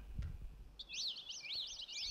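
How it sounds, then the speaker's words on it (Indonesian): A bird chirps in quick repeated warbling trills, close and clear, following a few soft thumps at the start. "Iya, suara burung"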